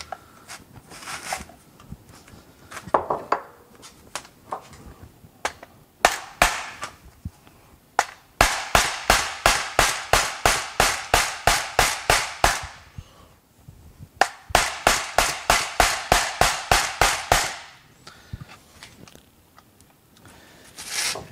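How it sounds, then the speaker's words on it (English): Rapid, evenly spaced metallic hammer blows in long runs driving a pin out of a Saab 9-5 shifter, broken by short pauses and a few scattered knocks. "Just hammer. Make sure there is room for the pin to come out."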